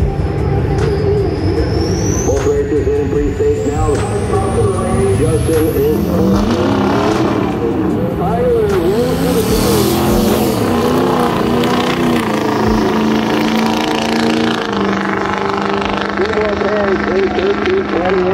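A turbocharged Trans Am drag car roars loud and near through a long run, its engine note sweeping and shifting with a high turbo whine rising above it, while an announcer talks over the noise.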